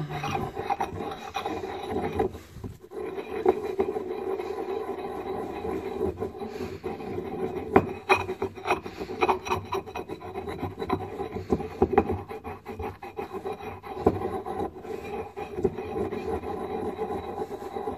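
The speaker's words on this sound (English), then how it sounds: "it's definitely not a new pestle and mortar anymore" Carbon being ground in a well-worn pestle and mortar, a continuous gritty rasping and scraping with irregular knocks, close and steady, with no voices.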